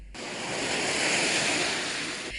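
Ocean waves breaking on a beach near a spot where small-scale fishermen work, a steady loud roar of surf and wind that fills the clip without a break.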